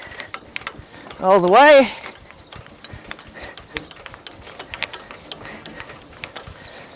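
Rapid ratcheting clicks and gear ticks from a Turbomill sawmill being wound back to the entry cut while sawing beams, running steadily throughout, with a short burst of speech near the start.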